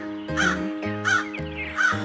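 Three loud, harsh caws from a cartoon crow named Kaliya, evenly spaced about every 0.7 seconds, clear and close with nothing else heard.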